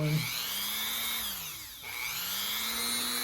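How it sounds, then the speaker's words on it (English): Dremel rotary tool polishing a Seiko watch bracelet laid flat, a steady high motor whine that dips briefly in the middle as the tool bears down on the metal, then climbs back up. "just lay it down and just run the Dremel across it like that"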